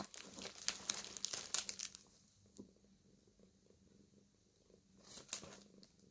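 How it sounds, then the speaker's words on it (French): A soft, low purr runs quietly under intermittent crinkling and rustling noises close to the microphone. "il y a Blue qui ronronne juste à côté de la caméra"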